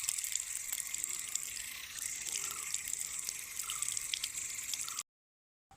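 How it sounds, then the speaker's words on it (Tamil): Running tap water pours steadily as a child washes their hands, a continuous close splash and trickle that stops abruptly near the end. "கை கழுவுறியா? தேய்ச்சி கழுவு நல்லா."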